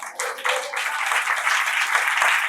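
A church congregation claps together at a worship service, a dense, sustained wash of many hands continuing steadily throughout, with a faint voice briefly underneath at the start.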